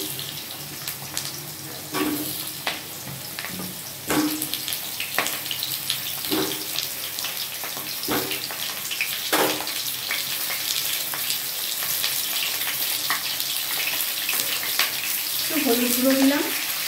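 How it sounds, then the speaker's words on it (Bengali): Potatoes fry in hot mustard oil in a kadai, giving a steady loud sizzling hiss throughout, with occasional soft clinks and a brief higher tone near the end. "আগে আমি আলুগুলো একটু ভেজে নেব।"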